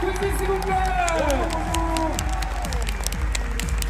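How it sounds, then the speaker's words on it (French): Audience applause and cheering at a video game concert during Paris Games Week, a loud crowd clapping and shouting, with voices speaking over it. "Applaudissements pour Squeezie, s'il vous plaît."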